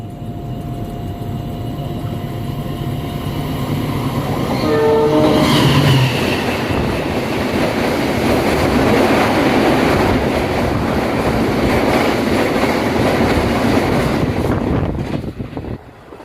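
The Argo Lawu passenger train roars past nearby, a loud continuous rush with rhythmic wheel clatter and a brief horn note, fading as it moves away.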